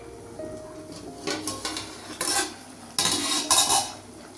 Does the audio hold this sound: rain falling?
no